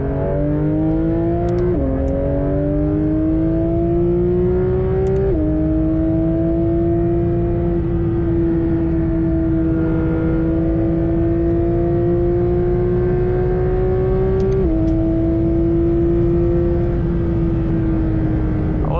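A Porsche GT3 RS on a cold track, scrubbing in fresh Cup 2R tires, holds a loud, steady engine drone up close, its pitch stepping with a few gear changes and throttle shifts and no voices over it.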